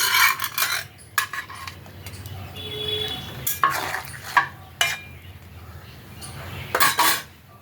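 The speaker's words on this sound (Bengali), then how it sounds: "জলটা ফুটে গেছে, মাছটাও আমি এর মধ্যে দিয়ে দেবো" Raw tengra fish going into a pot of boiling water, with metal utensils clanking and scraping against the pot in irregular bursts over a low simmering bubble, close and moderately loud.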